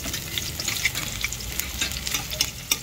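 Garlic fries in oil until it browns, making a close, continuous crackling sizzle with small pops and stirring noises, and no voices.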